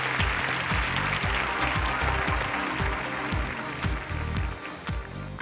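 An audience at a business ideas event applauds with sustained, fairly close clapping that stays dense throughout and eases slightly near the end.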